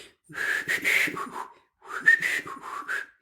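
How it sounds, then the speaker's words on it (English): Someone whistles two short wavering phrases with a brief pause between them, close and breathy, a little uneven in pitch. "my whistling's not very good."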